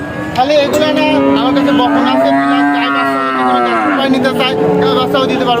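A cow at the Pabna Aranakhola cattle market gives one long, loud, close moo that lasts several seconds, against a busy background of market noise.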